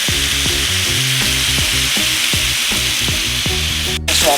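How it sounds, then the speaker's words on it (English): Shrimp frying in a skillet, a steady loud sizzle with a regular pulsing rhythm running throughout, ending in a brief sharp burst near the end. "then we're gonna cook the shrimp in the same skillet"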